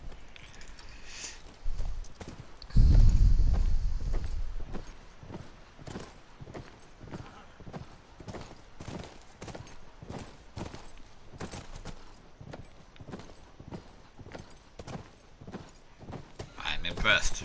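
Horses from The Last of Us walk with a steady clip-clop of hooves under game ambience and a player talking over it, with a brief louder thump early on.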